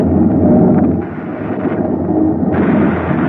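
A rocket engine fires in an old-time science-fiction radio drama, a loud, continuous roaring rumble that dips briefly then surges brighter, heard alone without voices.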